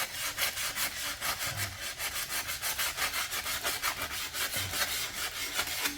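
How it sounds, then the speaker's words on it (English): Sandpaper scrubs a mountain bike brake disc rotor in fast, rhythmic back-and-forth strokes, a close, gritty rasping that repeats steadily throughout with no voices. "you're just going to be sanding that down until you've got a nice scratched up surface, a more matte surface than before"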